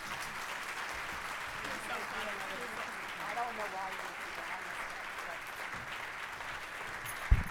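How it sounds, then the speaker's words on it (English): A crowd at an energy efficiency keynote event applauds Senator Rob Portman of Ohio. The clapping is dense and steady and lasts the whole stretch, with a voice faintly under it and a short bump at the end. "I hope you'll give a great round of applause to Senator Rob Portman of Ohio."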